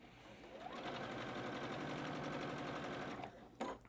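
A sewing machine stitches a quarter-inch seam on a batik quilt block with an edge guide, running in one steady rapid whir for about three seconds before stopping with a soft click.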